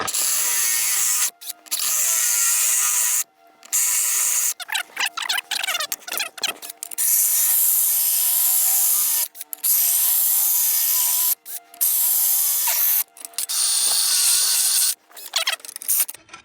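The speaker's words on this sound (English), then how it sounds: "we've straight cut this tile" A carbide grit saw cuts through tile kept wet, a harsh, loud, high scraping grind that runs in long stretches broken by brief silent gaps, close up with no talking.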